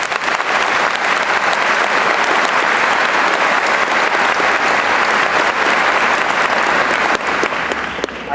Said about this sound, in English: For that, I think they deserve a round of applause.